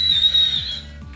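Japanese whistling candy blown into a shrill, high whistle lasting about half a second, fading out while a low rhythmic rumble carries on beneath.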